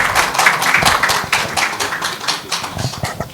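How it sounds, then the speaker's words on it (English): An audience at a conference awards ceremony applauds an award winner, a steady wash of many hands clapping at moderate loudness that carries on for several seconds with no voices. "Excellence deserves applause. Please hear it."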